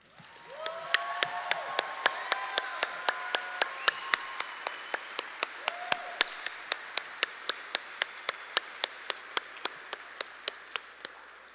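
Audience applause at a dental school graduation recognition ceremony honouring standing faculty and staff: a broad wash of clapping with a steady, sharp rhythmic beat running through it, and a few voices calling out near the start.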